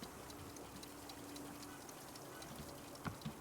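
A waterfall in the video game Wanderstop gives off a steady, faint, broadband rush with no breaks. A couple of soft knocks come near the end.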